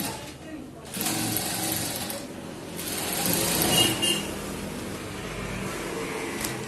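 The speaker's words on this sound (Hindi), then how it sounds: "इसको इस तरीके से सिलाई करते हैं बैठाकर" A sewing machine stitches a shirt in bursts of steady rapid whirring, running louder in the middle stretch and close by, while someone talks over it.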